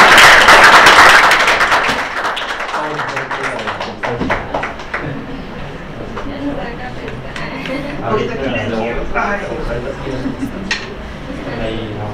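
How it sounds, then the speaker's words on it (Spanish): Loud applause from a seminar audience after a Bayesian statistics talk on the von Mises model, dense clapping at first and then settling into a steadier, lighter patter with voices mixed in. "tengo un fuerte aplauso"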